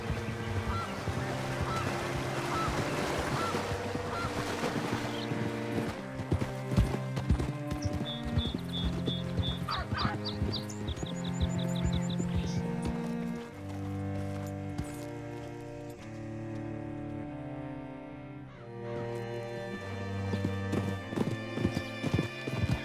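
Horse hooves clip-clopping in the video game Red Dead Redemption II, a steady rhythmic trot heard under prominent musical score, slowing and thinning toward the end.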